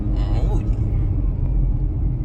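Low, steady engine rumble of a car building speed, heard from inside the vehicle, with voices talking over it.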